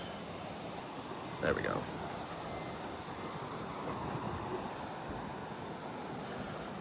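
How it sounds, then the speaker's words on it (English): Strong wind blowing outdoors on the Texas coast at Port Aransas, a constant broad rushing roar with surf-like texture, fairly faint overall, with a brief spoken remark near the start. "Oh, it's super windy out."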